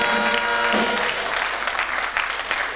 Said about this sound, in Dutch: En voor allemaal volg ik applaus.